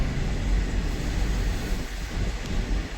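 Heavy truck carrying petroleum products, its engine running steadily; a loud, continuous low rumble with wind-like roar heard from on board, no talking.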